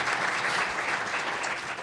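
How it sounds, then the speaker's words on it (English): A morning breakfast panel audience applauds the panelists with steady, dense clapping, close and sustained throughout with no talk over it. "let's give a round of applause to our panelists for showing up this morning"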